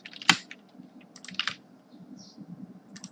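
Keys tapped on a computer keyboard while entering JavaScript code, a few close, crisp clicks in an irregular sparse rhythm over a quiet room, with no talking.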